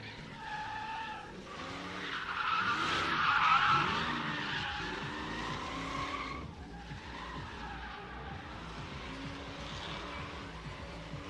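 A big-block drift car at a drift and stunt show skids with a loud, sustained tire squeal over a roaring engine, rising and then holding steady for several seconds.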